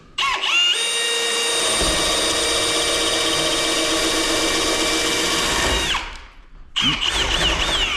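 A power drill whines steadily through wood, boring 1.5-inch holes for bird blocks, for about six seconds, loud and close, then stops briefly before spinning up again.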